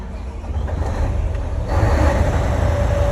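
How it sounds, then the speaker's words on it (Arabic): A vehicle engine cranks and catches about halfway through, then runs with a steady, close rumble and a faint hum. "ستارت انجن، دور"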